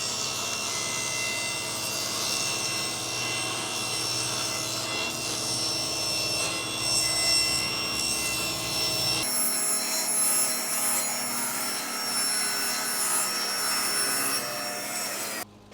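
A track saw cutting through plywood, a loud continuous whining drone with rough rubbing texture that thins out partway through as the blade nears the end of the cut, no talking.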